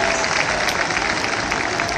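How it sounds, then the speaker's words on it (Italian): Audience applauding at an Italian tiramisu world record event in Gemona: dense, steady clapping from a crowd, close and loud throughout with a few voices mixed in. "Facciamo un applauso."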